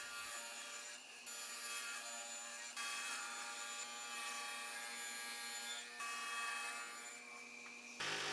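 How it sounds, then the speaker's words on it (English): A power saw rips leftover plywood to width, a loud sustained whine with brief dips between cuts, close and alone, then cutting off at the end. "I start by ripping some leftover plywood to width and then to length."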